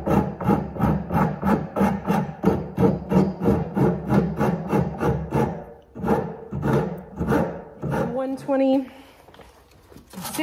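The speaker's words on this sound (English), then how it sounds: "Japanese files and I'm just going to start working down some of the high spots and getting that rounded shape" Japanese files rasp across the wood of a badly damaged crank-style phonograph cabinet, rounding off high spots in quick, rhythmic back-and-forth strokes, close and fairly loud, with a voice speaking over the later strokes.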